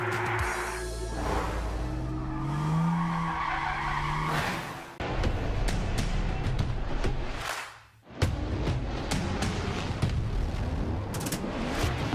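A BMW drift car at a Formula Drift round in New Jersey skids hard with loud, sustained tire squeal and engine roar, a brief dip near the eighth second before the screeching resumes at full volume.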